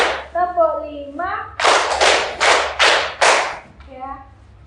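Children in a counting clap game clap together in five loud, evenly spaced group claps, with young voices speaking just before and after.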